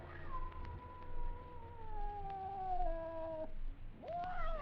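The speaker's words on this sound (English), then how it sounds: "It was a cat." A cat in a 1950 radio drama lets out a long, wavering caterwaul that slowly falls in pitch, cuts off briefly and then rises into another yowl over a low steady background hum.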